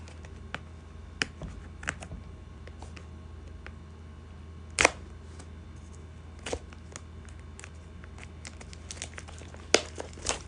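Packaging of an SX9 wireless microphone being opened: sparse crinkles, clicks and sharp plastic snaps scattered over a quiet background, with a few louder pops among the softer handling noises.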